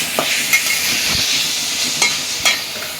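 Shrimp sizzle in a hot pan with a steady frying hiss, broken by a few sharp scrapes and clinks from a stirring utensil, close and clear.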